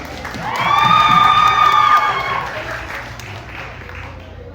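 A crowd cheers and claps, with a sustained shout of many voices swelling quickly, then slowly fading into lingering applause.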